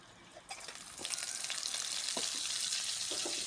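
Butter melting in a hot pan while frying chicken for butter fried rice, a steady loud sizzle that swells after a brief quieter start and keeps crackling with a few soft clinks, no talking.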